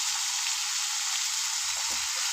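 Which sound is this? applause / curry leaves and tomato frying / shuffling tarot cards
curry leaves and tomato frying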